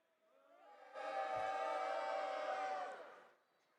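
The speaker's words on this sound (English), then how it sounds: "As you can hear the crowd behind me." Cleveland Crunch fans in an indoor soccer arena swell into a loud, sustained roar that builds, holds for a couple of seconds, then fades.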